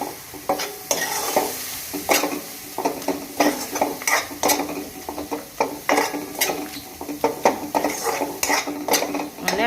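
Spices sauté with a splash of water in a pan for a mixed dal, under a steady sizzle broken by frequent, rhythmic metallic scrapes and clinks of a spoon stirring against the pan.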